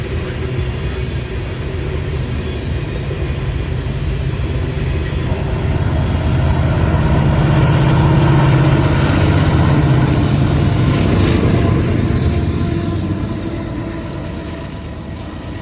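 Union Pacific freight grain train pulled by four Canadian Pacific locomotives, two leading and two as distributed power at the rear: a continuous heavy rumble that swells in the middle and holds steady, loud and close throughout.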